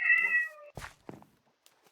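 A cat in the Minecraft video game gives one clear, drawn-out meow, followed by a few soft clicks and thumps in an otherwise quiet scene.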